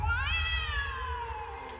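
A single cat meows loudly and close, one drawn-out call with a rising then slowly falling pitch, lasting most of two seconds.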